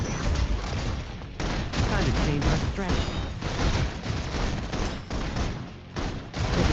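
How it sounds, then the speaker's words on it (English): Sustained suppression gunfire from the video game Love and Deepspace, a dense, loud barrage of rapid shots and booms running almost continuously, with a voice speaking over it. "Requesting full suppression gunfire"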